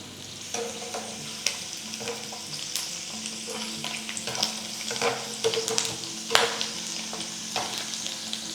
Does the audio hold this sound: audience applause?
no